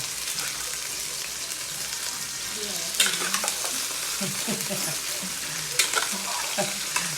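Chicken breast and backbone pieces fry in a pan for a Filipino chicken afritada, with a steady, close sizzle and occasional stirring scrapes and clatter throughout.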